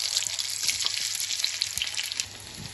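Mustard seeds and chopped shallots fry in hot oil for a mango curry, giving a steady close sizzle with small crackles and pops throughout.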